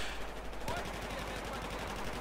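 Gunfire in Battlefield 4 multiplayer, a rapid string of automatic shots after a brief opening burst, moderately loud under faint game background.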